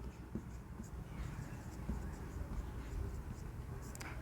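A pen scratches steadily across paper as a triangle theorem is written out for a class 10 geometry lesson, faint and close with soft continuous strokes and small ticks.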